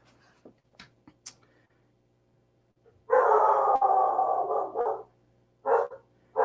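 Several dogs bark together in a loud, close cluster lasting about two seconds, then a shorter burst follows, after quiet room sounds with faint clicks and a low hum.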